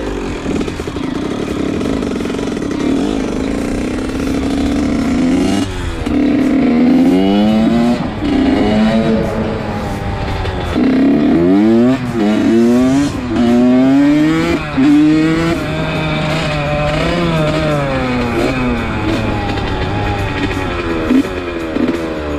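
A quad bike with a 53-tooth rear sprocket and 13-tooth front sprocket is loud and close, its engine revving up and down repeatedly under throttle, pitch climbing and falling in waves over a steady idle.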